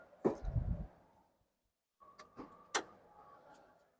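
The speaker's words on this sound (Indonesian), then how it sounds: "Kita buka kap mesinnya." Used car engine hood being opened: a dull thump and rustle, a pause, then sharp metallic latch clicks and a clunk as the hood is released and lifted, fairly quiet with no talking.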